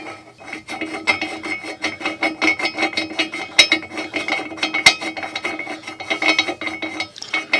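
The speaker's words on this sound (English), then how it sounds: "So I picked up a bolt at a local supply company. It's a 5 8 national fine thread. I'll thread that in here." A 5/8 national fine thread bolt is turned into a drill press table, giving a steady series of rhythmic rasping, grinding strokes at close range with a couple of sharp metallic ticks.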